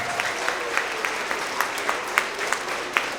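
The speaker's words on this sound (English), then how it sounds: "If we can give them a big round of applause for everything they do every single day." An audience claps for teachers at a spring awards assembly for third to fifth grade, a dense and continuous applause in a hall with no talk over it.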